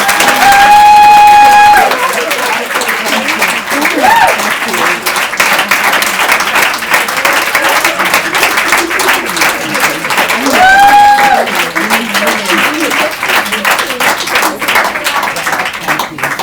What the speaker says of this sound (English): another round of applause for our clients